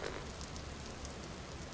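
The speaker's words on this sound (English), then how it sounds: "we're already getting rained on" Steady rain patters continuously on surfaces in the Empty Shell video game, a soft even hiss with scattered droplet ticks, heard alone inside a cramped hallway.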